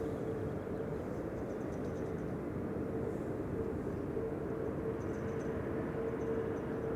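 A distant aircraft taxis at Amsterdam Schiphol Airport, a faint, steady low engine rumble with a thin sustained whine and soft broadband wash, constant throughout with no talk.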